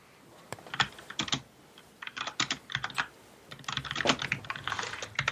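Fierce, rapid typing on a computer keyboard during a live fantasy baseball draft, with dense bursts of clacking keystrokes broken by short pauses, close and fairly loud, with no talking.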